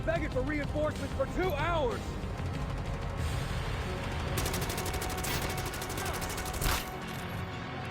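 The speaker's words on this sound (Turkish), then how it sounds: "bizim adama sıkıyoruz" Rapid automatic gunfire bursts from The Division mobile shooter game, loud and close, with someone talking excitedly over the early shots before sustained firing takes over.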